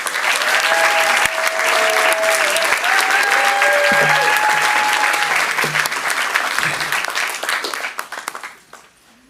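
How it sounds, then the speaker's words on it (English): A crowd at a board of education meeting applauds honorees, loud and sustained, with cheering voices over the dense clapping before it tapers off quickly at the close. "Let's give them all a round of applause."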